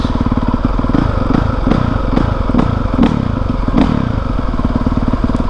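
A 2020 Honda CRF450R dirt bike engine idles steadily while warming up, a loud, close, continuous thumping putter with faint clattering ticks and no voices.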